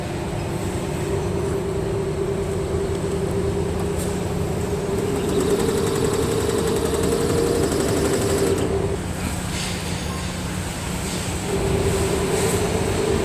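A multi-head embroidery machine runs nonstop, a loud, steady mechanical drone with a faint rhythmic chatter and a hum whose pitch briefly drops and then returns partway through.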